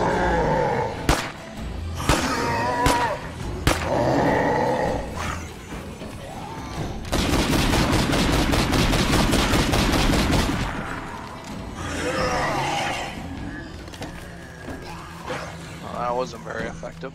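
Rapid bursts of gunfire aimed at a feral zombie in State of Decay 2, a dense, loud volley in the middle with scattered single shots and mechanical clatter around it, with someone talking over the action.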